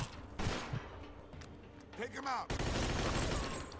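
Gunfire in Mafia 2, a Thompson submachine gun among the weapons, crackling in dense bursts with a heavy volley near the end, while a voice shouts over the shooting.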